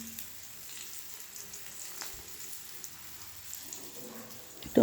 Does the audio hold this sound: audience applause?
no